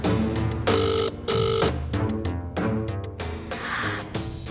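A telephone rings loudly in bursts separated by short pauses, close and clear with no talking over it.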